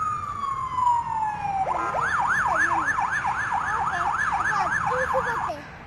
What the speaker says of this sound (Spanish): ambulancia.